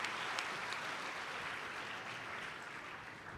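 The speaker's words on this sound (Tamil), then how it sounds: "கைதட்டுகளோடு. வாங்க." Audience applause at a Tamil pattimandram debate show in Tiruvallur, a steady, dense clapping from a large crowd that carries on evenly throughout and fades slightly toward the end, with no speech over it.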